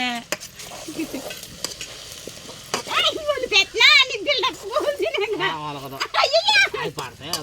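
Noodles being stirred in a pan give off a close, steady sizzle with soft scraping and stirring, while several voices, including a child's, talk over it throughout.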